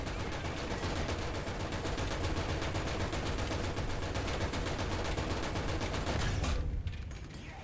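Continuous heavy gunfire in War Thunder, with enemy tank rounds and machine-gun bursts forming a loud, dense, unbroken barrage that runs for several seconds before easing slightly at the end.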